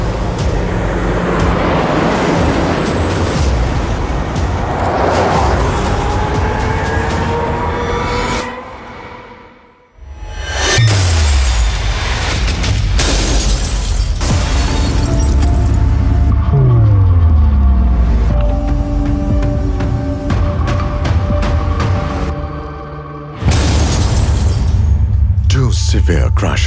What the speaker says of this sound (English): The same car now faces a second high-severity side impact.